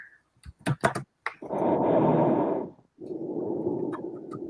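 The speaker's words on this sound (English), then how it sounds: "I'm typing it in again." Someone types on a computer keyboard in a short burst of sharp, close clicks. Longer breathy, hissing noises follow the typing.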